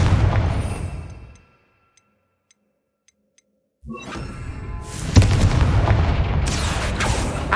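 Casting the Confringo spell in Hogwarts Legacy sets off loud blasts: a rumbling burst fades into near silence with faint ticking, then a sharp explosion erupts and a sustained crackling roar follows.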